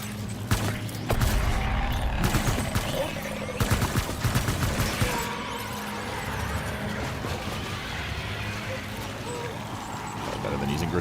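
In Death Stranding 2, a weapon fires at a large enemy. Loud bursts of rapid shots are mixed with mechanical and vehicle noise, and a player keeps talking over the action.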